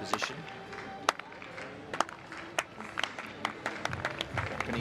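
A stadium crowd at the 2013 IPC Athletics World Championships in Lyon claps for a Belarusian long jumper, sharp uneven claps building into a loose rhythm over general crowd murmur and a commentator's voice.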